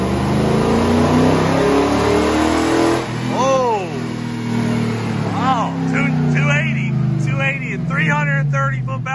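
A daily driver car engine runs on top fuel nitro, giving a loud, steady drone with shifting revs while several people talk excitedly over it.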